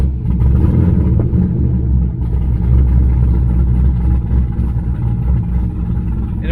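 A modified Corvette Z06 V8 with upgraded heads, cam, intake and exhaust idles with a heavy, steady low rumble that stays loud and close throughout, with no voices.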